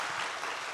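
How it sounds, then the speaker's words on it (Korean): A church congregation claps during a Sunday service, a brief, faint burst of steady applause heard at a distance. "한 번 더 격려 한번 박수 부탁드립니다."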